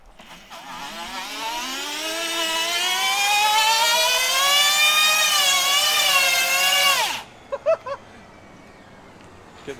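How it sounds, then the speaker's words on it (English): A 5000-watt electric bike does a burnout, its motor winding up in a loud rising whine that holds for several seconds before cutting off abruptly, followed by a few short clicks. "give us a burnout"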